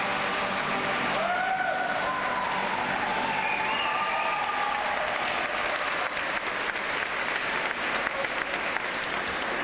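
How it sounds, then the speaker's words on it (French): Mexican pilgrims at a papal general audience in a large outdoor crowd, applauding and cheering continuously, with dense clapping and whistles spread across the whole stretch, steady and somewhat distant. "Nous venons d'entendre les Mexicains acclamer le pape et proclamer leur foi"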